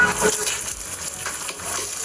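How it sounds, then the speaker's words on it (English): Steady hiss and crackle of chopped onions frying in hot vegetable oil, continuous and close, with faint stirring scrapes and no voices. "you can add the chopped onions after the vegetable oil has heated up"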